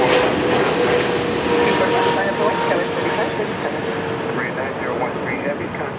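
A heavy jet airliner, a 777, passes at Los Angeles International Airport near runway 24R, a loud, broad engine roar close by that slowly eases, with air traffic radio talk faintly underneath.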